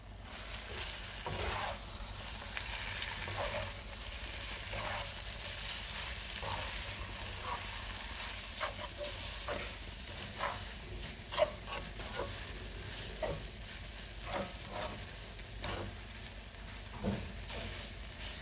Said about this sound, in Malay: Kacau-kacau sehingga sebati.